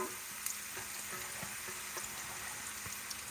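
Young jackfruit frying in oil in a delicate pan on the stovetop for an ackee dish, giving a quiet, steady sizzle with small crackles and pops, close and alone.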